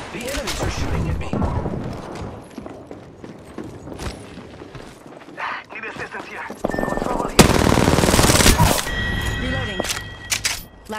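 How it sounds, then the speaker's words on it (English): Enemy gunfire in the video game Apex Legends, heavy automatic bursts and shots that keep going, louder toward the end, mixed with game effects and music. "The enemies are shooting at me."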